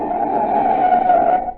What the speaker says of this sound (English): That's the sound of a car as a desperate motorist has jammed on the brakes in an emergency.